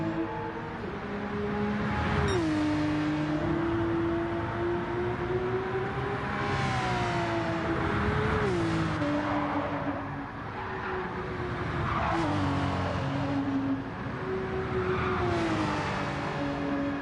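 A Mazda race car engine revving through a series of turns during a Nations Cup final race, the steady engine drone rising and dropping in pitch with each gear change and corner, continuous and fairly loud.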